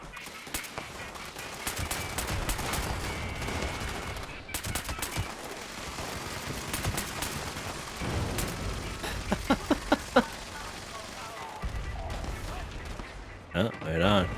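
Gunfire in the video game Fallout 76: dense, continuous bursts of shots and impacts crackle throughout, with a cluster of sharper reports near the end, while players talk over the action.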